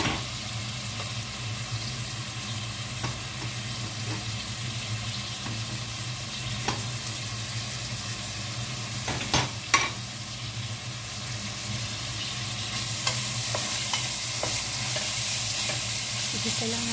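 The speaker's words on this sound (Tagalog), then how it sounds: "Ilagay na natin yung ating karne." Meat with bacon frying in a hot pan with its own oil, a steady sizzle running throughout with a few light scrapes and clinks, growing slightly brighter near the end.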